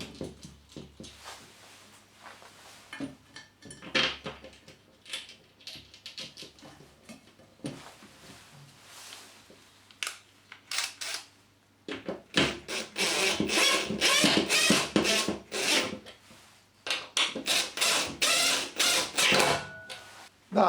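Screws are driven through a bracket into cavity wall fixings, giving irregular clicks, taps and rubbing scrapes, quiet at first and then denser and busier in the second half, close by without speech.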